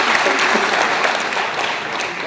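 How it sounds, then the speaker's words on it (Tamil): An audience at a Tamil book launch ceremony for a photographer's memoir claps in loud, continuous applause that fills the hall throughout, with a dense crowd texture. "நல்ல கைத்தட்டமாக"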